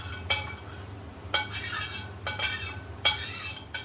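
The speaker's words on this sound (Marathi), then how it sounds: "हलवून घेऊया" A spoon scrapes and stirs thick mango pulp in a metal pan, making four distinct clinking, scraping strokes at an unhurried pace over a faint low hum, close by.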